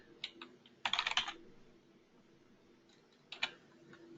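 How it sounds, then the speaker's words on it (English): Keys clatter on a computer keyboard in a few quiet, quick bursts of typing separated by pauses, close by and faint, with no talking. "I'll start to type"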